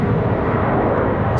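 A Boeing 737-8 departing Charlotte Douglas International Airport, heard as a steady, loud, broadband engine roar that holds evenly throughout without pauses.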